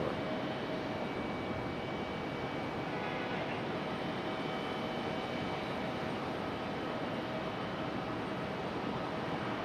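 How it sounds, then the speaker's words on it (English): A United Embraer E-175 jet airliner at Raleigh-Durham International Airport gives off a continuous broad engine roar, steady and moderately distant, with no voices. "it looks like we got another United E-175"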